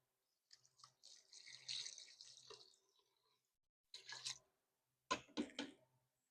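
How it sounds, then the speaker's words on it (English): Water splashes and trickles into a pot holding lemon and orange zest for elderflower cordial, a few short pours and splashes separated by quiet pauses, close and moderately loud. "Add our water."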